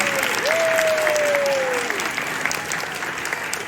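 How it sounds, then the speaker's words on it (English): A school audience at a kindergarten Three Little Pigs show applauds the teachers and assistants, a dense steady wash of clapping with a high whistle or cheer rising over it early on. "Give our teachers and assistants a round of applause."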